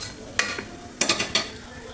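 Stirring ground pepper powder into a frying Khara Pongal mixture in a pan, heard as a few short scraping strokes with faint sizzling between them, close and without talk.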